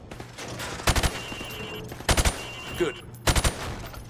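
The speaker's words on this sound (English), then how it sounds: "I want you to shoot the targets through the wood." Three rapid bursts of video game gunfire in Call of Duty, fired through plywood targets at a training range, sharp and close with short gaps between them, and a brief spoken word near the end.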